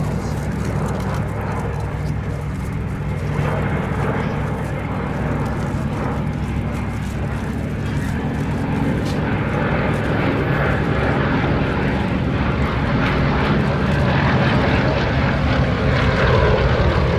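Propeller-driven warbird flying past at an air display, a steady broad engine and airscrew drone that holds strong throughout with no pauses, with faint crowd murmur beneath.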